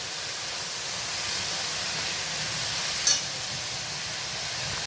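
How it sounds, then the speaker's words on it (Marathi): Red amaranth greens sautéing in a pan, a steady close hiss and sizzle running evenly throughout with one brief sharper flick partway through. "आता आपण ही भाजी परतून घेतोय"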